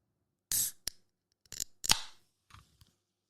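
A can of CC soda and lime cracks open with a sharp hiss, followed by a few short bursts of fizzing and clinking in an otherwise quiet room.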